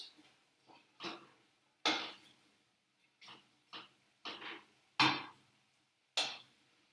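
A spoon stirring bolognese sauce in a pan, seasoned with garlic powder, makes a series of about nine short, wet scraping and clinking strokes at an irregular rhythm, fairly close and moderately loud, with no talking.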